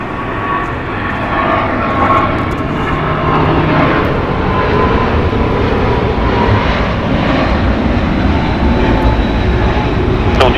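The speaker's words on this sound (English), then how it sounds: "Departing here is going to be United Airlines Flight 2471 going to EWR. It's a Boeing 777-200." A 27-year-old United Airlines Boeing 777-200 departs Los Angeles International Airport, its jet engines producing a loud, sustained roar that builds slightly and holds steady throughout.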